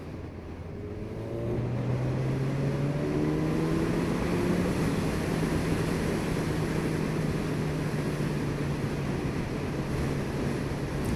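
A Kawasaki Ninja 1000SX engine pulls hard in top gear from about 30 mph, a steady drone that climbs gradually in pitch. Heavy wind rush from riding at speed runs throughout.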